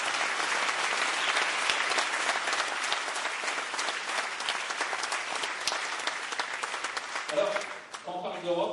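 An audience applauds a guest on stage with loud, sustained clapping that fills the room, then fades as a voice begins speaking near the end.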